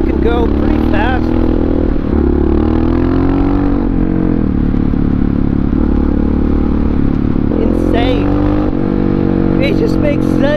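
Honda XR650R supermoto motorcycle engine, loud single-cylinder roar with repeated rising revs and throttle blips on the road, a rider talking intermittently over it.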